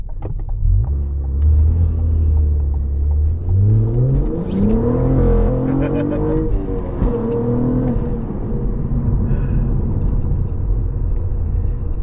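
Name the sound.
Cadillac CT4-V Blackwing car driving slowly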